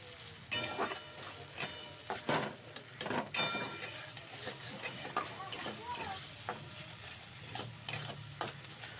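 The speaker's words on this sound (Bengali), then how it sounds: "ভালো করে মিক্স করে নিলাম।" Ginger garlic paste being mixed into a crab and potato curry in a pan, with repeated close scraping and stirring strokes over a light, steady sizzle. No talking.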